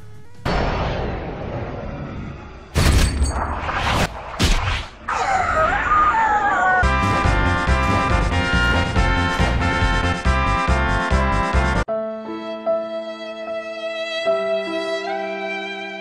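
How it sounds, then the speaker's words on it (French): Loud cinematic explosions and booming impacts in the video game Driv3r, followed by a dramatic orchestral music swell and sustained tones. "Mais qu'est-ce que c'est que ces explosions"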